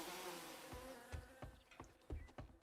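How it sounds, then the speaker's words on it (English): Bees buzzing in the video game 7 Days to Die, a steady insect drone carrying through the whole clip with a few soft thuds over it, no one talking. "the bees are very noisy."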